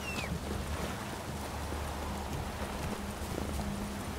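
Roach, a horse in The Witcher 3 game, with hooves clip-clopping in an even rhythm at moderate volume over a steady bed of wind and water ambience.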